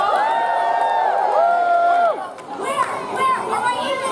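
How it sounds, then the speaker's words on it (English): A Renaissance fair crowd at a pirate-invasion finale show cheers and whoops loudly, with sustained shouting voices that briefly dip and then rise again in scattered yells. "let's cheer on these roll-ups"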